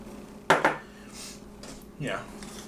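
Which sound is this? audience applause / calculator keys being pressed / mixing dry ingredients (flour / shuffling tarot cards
mixing dry ingredients (flour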